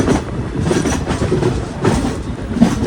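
A train rolls through Siliguri railway station with a continuous heavy rumble and rhythmic clickety-clack of wheels over rail joints, close and loud, with no voices.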